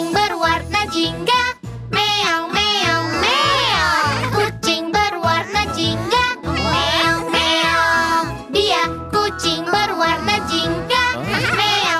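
Cartoon-style meows from an orange cat ring out over a bouncy children's Halloween song with sung vocals and jingly backing, repeating loudly across the whole stretch.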